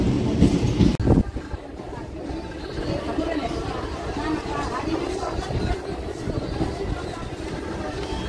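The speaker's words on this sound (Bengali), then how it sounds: "ট্রেন ঢুকলো।" A train pulls into a station in breezy weather after rain, its rumble and clattering wheels rolling continuously and fairly loud, with a sharp bang early on and voices chattering over it.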